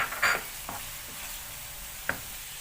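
Chicken breast frying in a pan with onion, giving a short sizzling hiss broken by a few sharp stirring scrapes and clacks, close and moderately loud with no talk.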